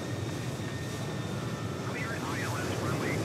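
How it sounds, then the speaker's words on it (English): A simulated American Airlines Airbus A321 going around at Miami International Airport in Microsoft Flight Simulator 2020 gives a steady, moderately loud jet engine roar that fills the whole stretch, with a voice talking over its latter part. "American Airlines Airbus A321 coming in and going around."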